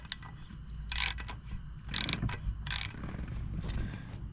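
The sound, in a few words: ratchet with 12 mm socket breaking a nut loose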